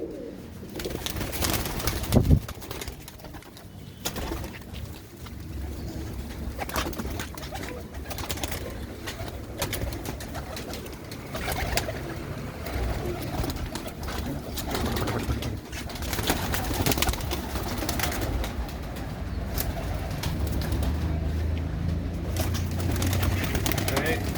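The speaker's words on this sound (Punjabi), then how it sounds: "ਲਓ ਵੀ ਮਿੱਤਰੋ ਇਹਦੇ ਚ ਨੇ ਕਬੂਤਰੀਆਂ" Female pigeons cooing in a fancier's loft, soft repeated coos blending into a steady murmur of birds, with someone talking over them throughout.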